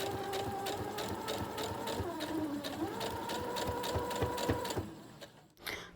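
A domestic sewing machine runs steadily with a rapid, even needle chatter as it stitches a seam on a fabric eagle feather holder, close and continuous, then stops near the end, leaving a brief handling noise.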